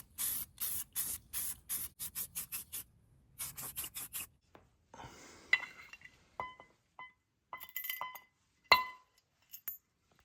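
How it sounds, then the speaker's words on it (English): Spray paint hisses onto a minibike chain guard in a dozen short, loud bursts, then metallic clinks, taps and handling rattles of the part and can follow at close range. "I figured I would paint the chain guard and make it look a little bit better and keep it from rusting"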